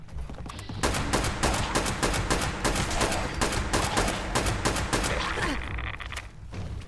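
Rapid automatic gunfire in Fallout 76, a fast, steady burst of shots aimed at enemies' legs, loud and continuous for several seconds before stopping abruptly.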